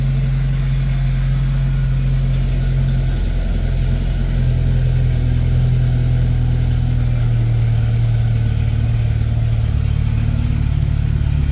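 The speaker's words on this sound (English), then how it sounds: "cold start" A 1995 Jeep Wrangler engine running after a cold start, a loud steady low rumble at idle whose pitch shifts slightly partway through as it settles.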